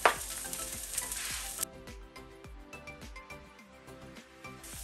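Onion, spring onion and garlic fry in a pan for kimchi fried rice, a bright sizzle at first that settles into a softer crackle, with a utensil stirring and scraping in steady strokes close by.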